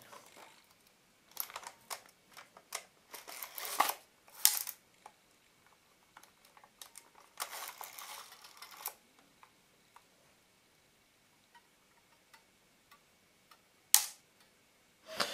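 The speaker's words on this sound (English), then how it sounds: "So the shutter is actually firing, try to fire when I release the winder" A Plaubel Makina 67 camera with a faulty shutter and Nikkor 80mm f/2.8 lens clicks and ticks up close in scattered bursts. Several sharp snaps stand out against near-silence, with mechanical rattles between them.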